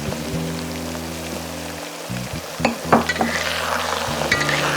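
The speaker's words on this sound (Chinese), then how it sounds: "这个酱呢也要煸一下它才香。" Soybean paste and sweet bean sauce stir-frying in a wok, a steady close sizzle over a low hum, with scraping clatter of the spatula around the midpoint and the frying growing brighter afterward.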